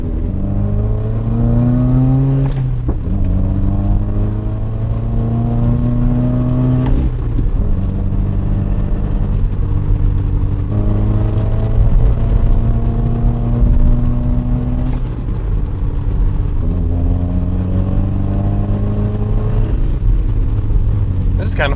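A car in a racing video game drives on country roads, its engine droning loudly and steadily while pitch climbs and drops repeatedly through gear shifts, with a voice talking over it.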